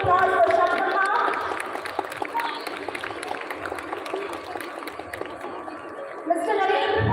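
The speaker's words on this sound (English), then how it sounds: "Please give a huge round of applause for Shabnama." An audience at a school Republic Day celebration claps steadily for Shabnama, a sustained patter of many hands with voices and chatter mixed in and a brief swell near the end.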